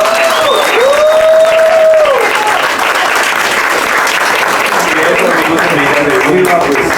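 Audience applause fills the room at a storytelling and talk event, steady and dense throughout, with a tonal whistle-like sound rising early and a few voices mixed in toward the end.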